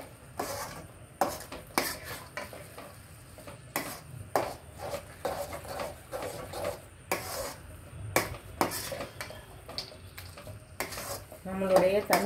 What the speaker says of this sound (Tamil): அதையும் சேர்த்து கிளறிடுறேன்.